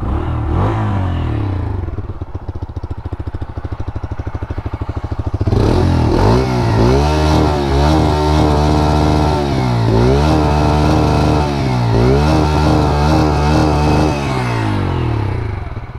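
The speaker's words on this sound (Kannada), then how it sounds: "ನೋಡಿ ಎಕ್ಸಾಸ್ಟ್ ನೋಟು ಚೆನ್ನಾಗಿದೆ" A Bajaj Freedom 125 NG04 CNG motorcycle, here running on petrol, idles with a rough pulsing exhaust note. Around a third of the way in it jumps louder, revving up and down in repeated close swells.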